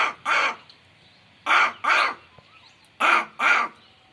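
A voice imitates a crow, giving three pairs of harsh, raspy caws spaced evenly apart, close and fairly loud against a quiet background.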